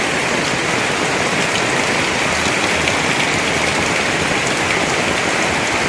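Heavy rain pours steadily and loudly on a farmyard during the rainy season, a dense continuous hiss with no let-up and no voices.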